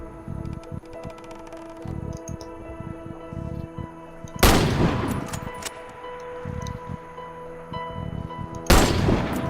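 Sniper rifle shots in the video game Warface, two loud sharp cracks several seconds apart, each with a short ringing tail, over quieter game background noise and faint clicks.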